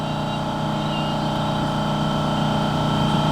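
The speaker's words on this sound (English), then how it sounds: "So you let the air compressor build up." An air compressor on an old farm truck job runs at a steady, unbroken drone, building up pressure, moderately loud and close with no talk over it.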